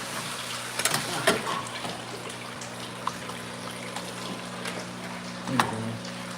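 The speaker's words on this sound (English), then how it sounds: "I'm gonna pour this water here." Water is poured outdoors with a faint, steady trickle, broken by a couple of brief splashes near the start and end.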